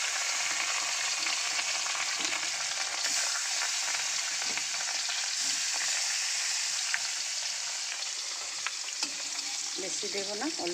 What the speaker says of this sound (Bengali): বেশি দেবো না, অল্প অল্প করে মাছটা ভেজে নেব।